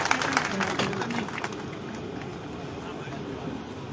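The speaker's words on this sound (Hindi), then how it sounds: "जरा ताली बजा के स्वागत करवाएं।" A crowd at a political rally claps to welcome a guest, with dense clapping loudest at the start and thinning out beneath ongoing sound.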